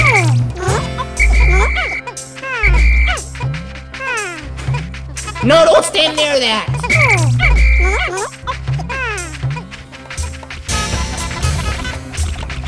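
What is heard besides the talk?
frog croaking in Pikmin video game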